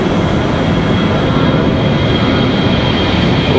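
An airliner departs Raleigh Durham airport with a loud, steady roar of jet engines that fills the clip without letup, broad and rumbling, no voices over it.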